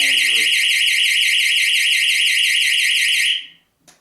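A light wall system's screamer alarm blares as a loud, piercing, fast-warbling siren for over three seconds, then cuts off abruptly with a short chirp afterward. A brief voice is heard at the start.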